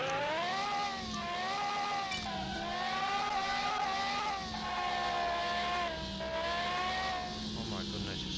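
A powerful little car's engine races in the video game Car Mechanic Simulator 2021, revving high and steady with rising and falling pitch as it accelerates and eases off, loud and close throughout.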